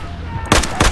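Two sharp, loud gunshots about a quarter second apart, each a broadband crack with a short decay, follow a quieter stretch of game ambience in the Battlefield 4 shooter.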